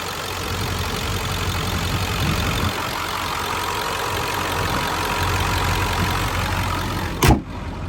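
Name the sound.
2003 Ford Excursion 7.3L Powerstroke diesel engine idling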